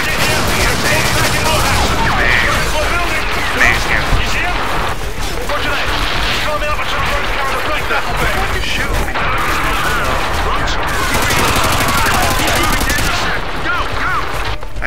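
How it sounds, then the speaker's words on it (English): Enemy gunfire in the video game Call of Duty Modern Warfare 2: steady, loud bursts of automatic and rifle fire with occasional heavier booms, running without pause under a player's talking. "I see there are some guys shooting behind me."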